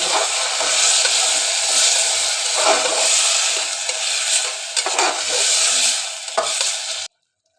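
Vegetables and masala being stirred in a pan for vegetable pulao, a continuous loud frying sizzle with repeated scraping strokes of the spoon against the pan, ending abruptly.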